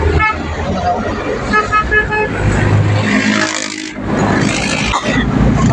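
Dense road traffic near the South Luzon Expressway, heard from inside a vehicle, with repeated car horn toots over a steady engine and road rumble while people talk nearby.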